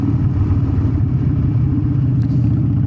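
A motorcycle engine held in first gear roars loudly and steadily up close, a dense continuous rumble with a slight wavering pulse and no break or gear change through the stretch.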